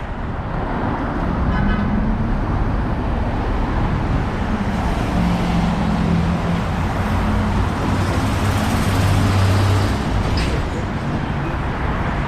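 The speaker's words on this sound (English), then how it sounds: "there's cars trying to get onto 40th Avenue, and this tractor trailer isn't allowing them to pass" Steady roar of heavy city traffic on Northern Boulevard in Long Island City, Queens, New York, with cars and a tractor trailer idling and rumbling nearby, loud and continuous with no talk.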